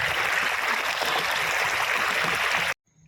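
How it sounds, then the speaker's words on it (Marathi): A village stream flows steadily with a dense, broad rush of water that stays even and close, then stops abruptly near the end, leaving near silence. "पावसाळ्यात इथे पाणी खूप छान वाहतं।"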